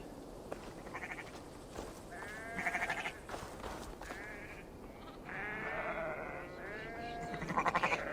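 Sheep in Assassin's Creed Valhalla bleat repeatedly over a soft outdoor ambience, several overlapping calls at moderate distance spread across the scene.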